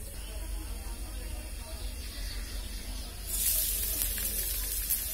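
Cooking oil heats in a kadai, a soft steady hiss that swells into a louder, brighter sizzle about midway through, close by with no talk.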